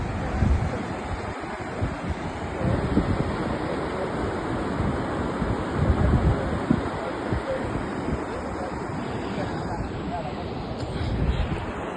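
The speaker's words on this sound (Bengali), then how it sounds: "এই যে দেখেন সমুদ্রের গর্জন।" Sea waves roar continuously on the beach at Cox's Bazar, a loud, steady wash of surf with wind buffeting the microphone throughout.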